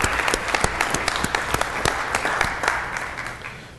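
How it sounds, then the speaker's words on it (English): Applause breaks out at a Fresno city council meeting after a proclamation for Prematurity Awareness Day, a room of hands clapping steadily with sharp individual claps standing out, fading slightly toward the end. "Round of applause,"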